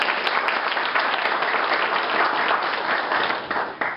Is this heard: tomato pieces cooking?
no